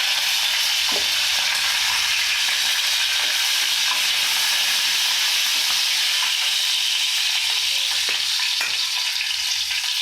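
Green chili pieces and curry leaves crackle and sizzle in hot oil for a potato kurma, a loud, steady broadband frying hiss with occasional pops and stirring, no talk.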